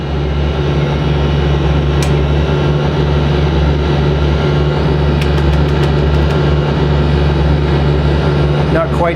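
A trike aircraft engine in a flight simulator game drones steadily and loudly with a deep, even hum, throttle being reduced, with faint background tones and no spoken words.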